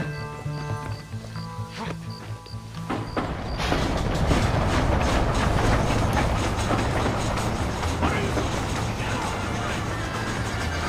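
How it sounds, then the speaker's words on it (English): In the Western video game Red Dead Redemption, a train rumbles and clatters steadily, growing louder and denser midway and holding as a continuous rolling roar over faint music. "Come on, the train is waiting."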